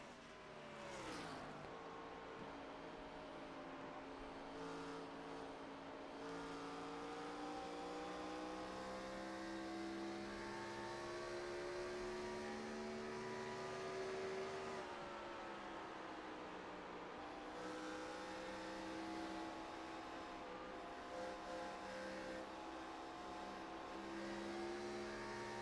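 A race car engine roars steadily on board the number 8 car in an iRacing TNT final at Darlington, loud and close with the pitch rising and falling through gear changes and throttle lifts for the whole stretch.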